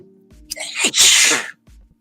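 A single loud sneeze up close, with a sharp intake of breath and a burst of air.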